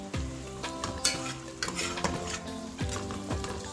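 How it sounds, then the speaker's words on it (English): Stirring Jamaican brown stew fish with ketchup in a hot frying pan: a spoon scrapes and knocks against the pan in repeated strokes over a steady close sizzle, with no voices. "after adding the ketchup freestyle, I will go ahead and stir"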